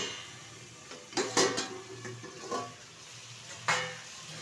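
A lid is lifted off a pot of sponge gourd and shrimp after ten minutes of covered cooking, a few faint metallic clatters and knocks over a soft background of gentle bubbling.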